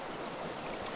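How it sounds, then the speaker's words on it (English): Water runs beneath large stones in an old riverbed at a Finnish gold-mining site, a continuous close wash of trickling flow with no talk. "Water is running"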